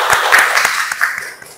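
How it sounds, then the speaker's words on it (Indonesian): Applause from an audience at an Indonesian insurance sales seminar fills the clip: dense, loud, steady clapping that tapers off slightly toward the end. "Tepuk tangan dong buat Rindi."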